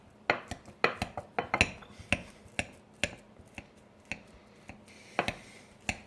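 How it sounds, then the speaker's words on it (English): A whisk mashes ripe bananas in a bowl, giving irregular sharp clinks and taps against the bowl's sides, close and fairly quiet with brief pauses between strokes. "What I want to do now is I'll just use the whisk."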